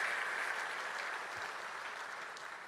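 A church congregation applauds steadily, a dense wash of clapping hands at moderate distance that holds throughout without a break.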